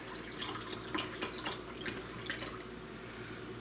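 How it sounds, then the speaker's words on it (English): Turkey broth poured from a container into a pot of turkey pot pie filling gives quiet, soft liquid splashes and drips over a few seconds, with no talking. "we're gonna add the turkey broth"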